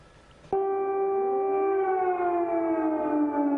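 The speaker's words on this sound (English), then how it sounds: "Air raid sirens sounded in Ukraine's capital, Kyiv, as Russian troops pressed on." Air raid sirens wail over Kyiv, Ukraine, starting abruptly after half a second of quiet background and holding a loud, steady multi-tone wail that slowly drifts downward in pitch.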